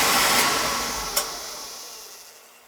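A Beckett oil burner running just after ignition, recently fitted with a new nozzle: a steady breathy roar that slowly fades, with a brief click near the middle.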